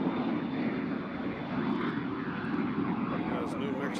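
A passenger airplane taxis at Nashville International Airport, its engines giving a steady, loud broadband roar that runs unbroken throughout.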